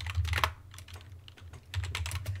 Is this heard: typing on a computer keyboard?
yes